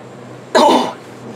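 A single short, loud cough and throat clearing from a person at a craft table working with vellum, close and alone against quiet room tone.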